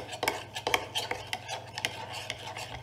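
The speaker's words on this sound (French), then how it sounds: "Kirsten va mélanger" A spoon stirring a homemade paint mixture tinted with food coloring, with quick repeated scraping clinks against the container in an irregular rhythm, close and fairly quiet.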